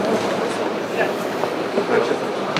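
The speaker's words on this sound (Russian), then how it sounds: "Прыгайте в трамвай." A modern tram styled as a retro streetcar runs with a steady rolling rumble and faint wheel clatter, heard from on board at an industrial exhibition, with no talk over it.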